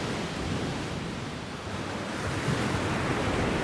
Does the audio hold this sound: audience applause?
no